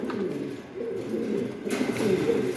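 A Spanish Gorgorio pigeon coos nearby in a low, rolling, continuous murmur that lasts the whole moment, with faint room noise underneath.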